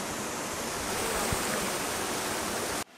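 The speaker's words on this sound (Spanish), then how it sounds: "estamos en un onsen de pies, pero natural, aquí en un río" A river flows steadily at a natural foot onsen in Jigokudani, Japan, a close, continuous rushing wash of water with no talk, cutting off abruptly near the end.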